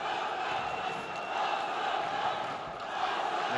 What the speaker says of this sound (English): The crowd though now starting to raise the spirits, raise the roof here in the Basket Hall Arena.